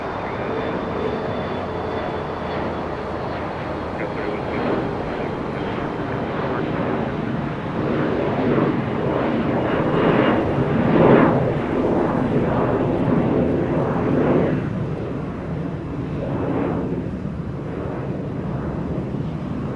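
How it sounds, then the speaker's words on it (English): Singapore Airlines jet turning onto taxiway Echo at LAX in the distance, a low, wind-buffeted engine drone that swells slightly midway and then eases, with no voices. "As Singapore Airlines makes the right turn on taxiway Echo right in front of Bad Bridge in the distance."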